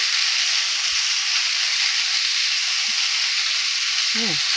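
Potato and eggplant pieces with turmeric fry in hot oil and sizzle loudly and steadily while being stirred. A few faint soft knocks sound under the hiss.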